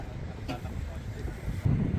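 Wind buffeting the microphone with low rumbling gusts at Mangili Tindaan Historical Nature Park, a voice speaking faintly underneath.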